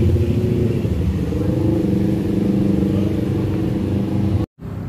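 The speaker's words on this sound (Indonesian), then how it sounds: "Ini kita udah sampai, kita mau parkir dulu dan langsung masuk." A car pulls in to park outside a 24-hour dim sum restaurant, its engine a steady low rumble close by for several seconds before cutting out almost completely near the end, then a softer hum returns.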